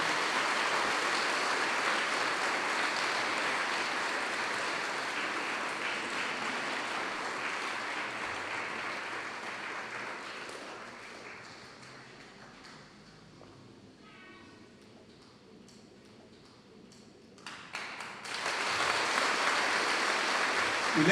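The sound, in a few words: church congregation applause for the parish priest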